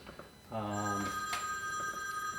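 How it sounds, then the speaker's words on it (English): A telephone bell rings once, starting after a brief quiet moment and sustaining with a bright, steady metallic tone, with faint background noise in a garage workspace. "phone rings."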